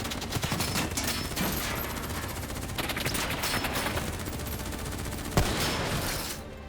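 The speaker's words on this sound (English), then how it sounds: "Who's shooting?" Sustained automatic gunfire in the Call of Duty: Black Ops 3 campaign, a dense, continuous rattle of rapid shots with one sharper crack near the end, loud and unbroken throughout.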